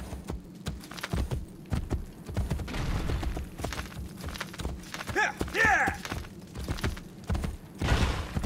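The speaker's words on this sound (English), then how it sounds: "Faster to travel by horse." Galloping horse hooves in the video game Assassin's Creed Brotherhood, a steady rapid clip-clop running throughout under game music and effects, with a brief whinny-like sound near the middle.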